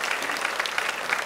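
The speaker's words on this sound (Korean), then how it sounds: "감사의 박수를 우리 함께 드리도록 하겠습니다" A church congregation applauds together in thanks during a Christmas Sunday worship service, a steady, dense clapping close and even throughout, with no speech over it.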